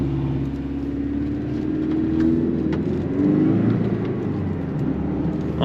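Porsche 718 Boxster with a manual gearbox, its engine note held at a steady, fairly loud drone with a slight swell in pitch midway, close and continuous with no one talking.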